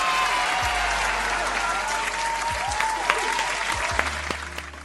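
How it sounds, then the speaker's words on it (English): Crowd applause with cheering, steady dense clapping that runs loud throughout the whole stretch, with a few whoops rising over it and no speech. "Round of applause for how great this Taylor journey has been"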